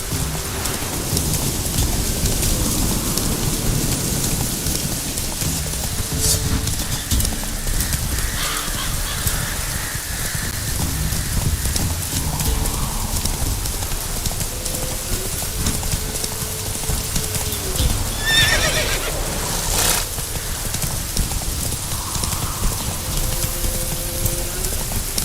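Horse hooves clip-clop steadily through rain in the video game The Witcher 3 Wild Hunt, with a constant patter of rain and crows cawing in the background.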